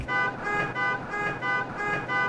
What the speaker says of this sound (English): Traffic noise, really, isn't it?